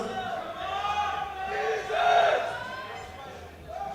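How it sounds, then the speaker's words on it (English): A teammate shouts encouragement from the crowd at a European sub-junior and junior classic powerlifting championship: sustained loud yelling and crowd voices that swell to a peak midway, then ease off and pick up again. "his teammate is in the crowd cheering him on, hoping he gets it"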